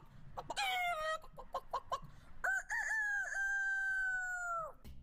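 A rooster crows loudly and close by, a long drawn-out call, with short clucking notes from hens just before it.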